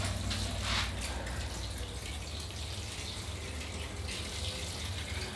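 Fertilizer water pours steadily from a hose or watering can onto potted bonsai soil inside a glass greenhouse, a continuous soft splashing hiss that stays even throughout with a low hum underneath.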